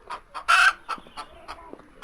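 A hen sitting on her eggs in a rural village house clucks close by, a string of short soft clucks with one louder squawking call in the middle.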